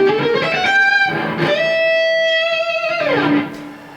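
Blues guitar lick opening with a smooth upward string bend, then sustained singing notes and a sliding fall at the end, played alone, close and clear.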